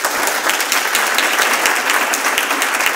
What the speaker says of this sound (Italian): Un applauso per Ricky.